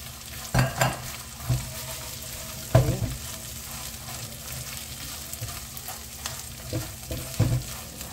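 Dried anchovies (dilis) are stir-fried in a pan, hissing and sizzling steadily while a utensil scrapes and knocks in irregular strokes. The sounds come close up with no voices.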